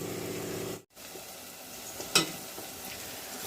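Raw ground masala paste cooking in a pan for a vegetable saagu, giving a steady soft sizzle with a brief dropout and a short louder spike partway through.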